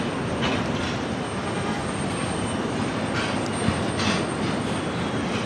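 A Turkish Airlines Boeing 787-9 Dreamliner takes off from runway 13 right at JFK. Its jet engines give a broad, steady roar heard from some distance, holding a fairly even level throughout, with no talking.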